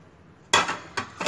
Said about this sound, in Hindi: और इसको अच्छे से मसाले के साथ इसको मिक्स कर देंगे